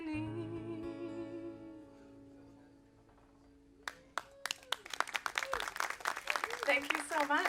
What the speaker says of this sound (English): that clap is for you too